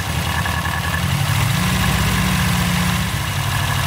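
A 1962 Austin Healey Sprite Mark II engine idles, then is sped up so the low steady drone rises in pitch and intensity, holding a higher pulsing tone before easing back near the end; close, loud, no talking.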